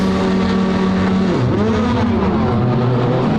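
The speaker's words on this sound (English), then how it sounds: "Handbrake on, gear in, revs up, time to launch." A rallycross car revs at the start line in qualifying at the 2019 World Rallycross of Sweden, a loud steady engine drone that dips in pitch midway and climbs again, with other engines droning nearby.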